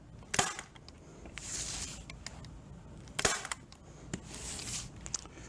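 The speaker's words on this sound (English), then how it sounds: "We're going to take our staple gun, just a light duty staple gun. We're going to hit the center of each side." A light duty staple gun fires staples through watercolor paper, giving a handful of sharp, close snapping clacks spread irregularly across the clip, with softer rustling and handling noise between shots.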